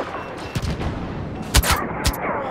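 Bursts of blaster-style gunfire in a Star Wars Battlefront-style video game, a few sharp loud volleys over a busy battle background.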